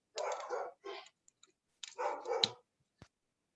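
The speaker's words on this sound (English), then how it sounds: "You can hear the dog barking" A dog barks twice in quick bursts, then again after a pause, with a few small clicks between, fairly faint and otherwise quiet.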